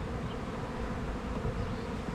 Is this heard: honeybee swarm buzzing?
yes